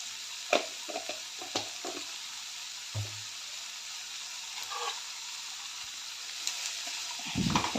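Vegetables with salt are stirred in a pan, with quiet intermittent scrapes and clinks of a utensil over a faint sizzle, a few sharper knocks early and a louder stir at the end.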